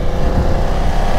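A BMW F 900 XR A2 motorcycle accelerates on the road, its steady engine drone mixed with rushing wind noise, loud and continuous throughout, with no talking.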